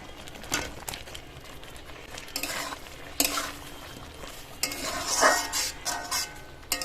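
Chicken is added to spice masala frying in oil for homemade butter chicken on a medium gas flame, with a spoon stirring and scraping the pan over a soft sizzle in recurring louder bursts.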